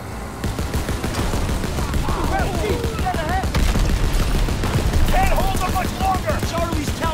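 In the Call of Duty WWII campaign, a machine gun fires in dense, sustained bursts during a vehicle battle, loud and close, mixed with shouting voices and battle noise throughout.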